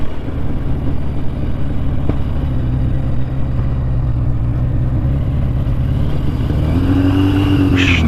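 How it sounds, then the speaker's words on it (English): A motorcycle with a straight-through exhaust rides along, its loud low engine drone steady and close throughout, with slight popping and a shift in pitch near the end as it changes speed. "It's a little bit poppy, but it's basically got straight through exhaust."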